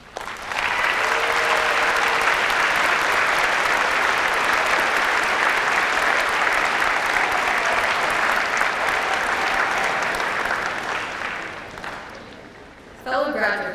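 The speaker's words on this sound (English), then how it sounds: "We would now like to take a moment to honor all of our parents and guardians with a well-deserved round of applause" Large graduation audience applauding steadily for the graduates' parents and guardians in a big hall, a dense sustained clatter of many hands that fades near the end, with a brief burst of talk at the close.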